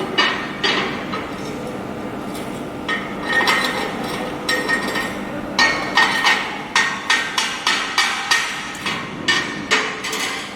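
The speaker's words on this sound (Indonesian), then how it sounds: "Kita dapat menggunakan bantuan chipping hammer." A chipping hammer knocks slag off a butt weld in a welding workshop, striking in quick irregular metallic clinks that grow into a steady rhythmic series of sharp taps, close and fairly loud.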